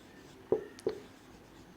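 Writing the word "lowering" on a board during a chemistry lesson: a few sharp taps and short strokes spaced out over quiet room tone.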